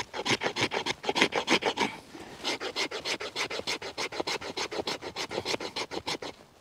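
Close, steady rasping strokes of a bushcraft knife blade scraping along a split stick of pine, rhythmic back-and-forth passes with a brief pause partway, no talking.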